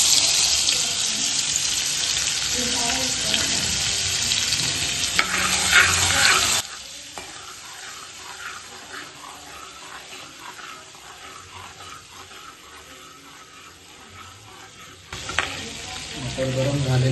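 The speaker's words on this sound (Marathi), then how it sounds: "बटर गरम झालेलं आहे आपलं." Butter melting and sizzling in hot oil in a pan while cooking green paneer, a steady loud frying hiss that drops to a softer simmer partway through and swells again near the end.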